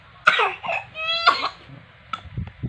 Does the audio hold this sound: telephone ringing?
no